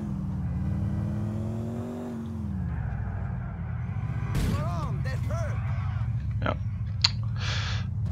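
A modded Mercedes E63 AMG in GTA IV driving fast, its engine a loud steady drone that drops in pitch as it shifts, under a man's speech, with squeaky interface blips toward the end.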